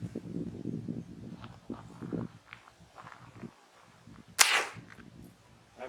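A single sharp crack of old rimfire ammunition at an outdoor shooting range, loud and brief, rising out of quiet rustling and low handling noise.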